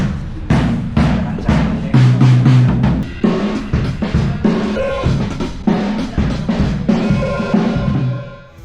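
Full band sound check at a live event in Pampanga, with a customized Ludwig kick drum fitted with a trigger thumping steadily under loud, dense drumming and cymbals, punchy and close through the PA.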